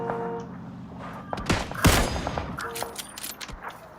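PUBG gunfire from the video game, with rapid bursts of shots and sharp cracks packed together over a steady in-game engine drone, loud and close.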